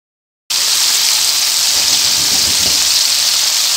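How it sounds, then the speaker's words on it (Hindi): Coated popcorn chicken pieces dropped into hot oil in a wok, a loud steady crackling sizzle that starts suddenly after a short silence and holds evenly, with no talk. "उस चिकन को हम वन बाय वन इस वॉक के अंदर ऐड करते जाएंगे और इसे फ्राई होने देंगे"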